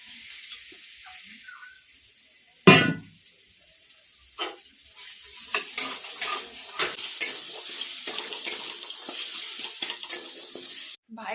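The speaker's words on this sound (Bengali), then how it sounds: "পেঁয়াজ কাঁচা লঙ্কা দিয়ে ছোলা ভাজা করবো" Chickpeas with onion and green chili hit hot oil with a sudden loud burst, then settle into a continuous bubbling sizzle with scattered pops and stirring clinks, close and without talk.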